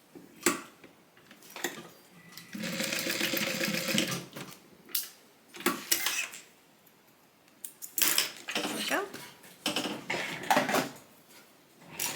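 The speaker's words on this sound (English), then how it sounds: "I'm just going to stitch along the side, hold that down in place." Sewing machine stitching along the side of a fabric divider bag, with short bursts of whirring stitching separated by pauses and handling clatter, fairly close and moderate in level.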